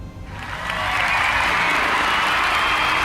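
A crowd applause effect in Microsoft Flight Simulator 2024 swells from quiet to a full, steady clapping roar that holds for a few seconds, with no speech.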